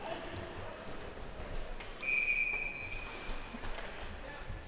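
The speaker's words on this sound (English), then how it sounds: "And there's the whistle." Referee's whistle at an ice hockey game sounds once, a steady high tone lasting about a second, set against loud arena crowd noise.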